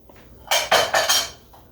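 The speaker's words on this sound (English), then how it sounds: "Get the little bowls out of the way here." Small bowls and a lid clatter as they are moved aside on a kitchen counter: three or four quick, close ceramic knocks in a row, then a softer final tap.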